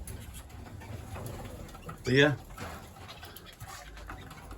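A pigeon gives one brief, clear coo in a bird room, standing out against a quiet background of soft rustling and murmured talk.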